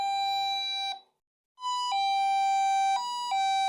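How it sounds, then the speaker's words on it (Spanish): A battery doorbell powered over USB rings with a clear electronic chime: a sustained tone, a brief silence, then a sequence of stepped pitches. It is loud and close, with no talking. "Ahora, si conectamos el timbre, podemos ver que encendió sin problema."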